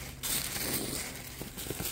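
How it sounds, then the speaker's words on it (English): Wrapping paper on a birthday gift crinkles and crushes in close, loud bursts as it is torn and scrunched open one-handed, with brief pauses between grabs. "I'm gonna have to unwrap this best way that I can."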